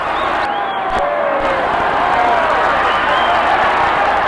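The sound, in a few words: boxing arena crowd cheering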